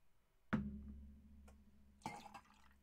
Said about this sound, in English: So we're going to proof this up with an ounce of vodka.